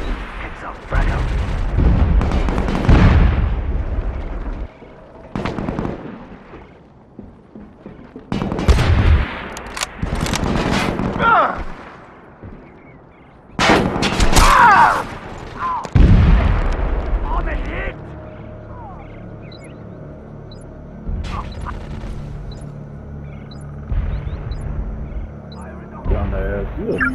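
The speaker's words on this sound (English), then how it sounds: "Fire in the hole. Fire in the hole. Heads up, Frag out." Frag grenade blasts and gunfire from the tactical shooter game Socom 4, loud bursts of explosions and shots in several heavy clusters, then a lower rumbling battle din with intermittent sharper hits; no clear talk.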